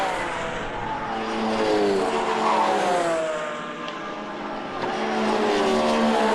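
Race cars at Zandvoort circuit in a SuperChallenge race roar past together in a continuous loud engine drone, with the pitch sweeping and shifting as several cars pass close by.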